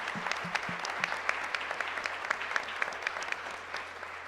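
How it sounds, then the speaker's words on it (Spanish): Audience applause at the closing ceremony of an international training course, a steady wash of many hands clapping at moderate distance, continuous for the whole stretch. "Si quieren un aplauso rápido a ellas"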